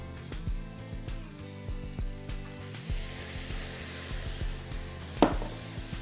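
Butter melts and sizzles in a hot pan on the stovetop, a steady soft crackle with a few light scrapes and clinks of a utensil, close and alone with no talk.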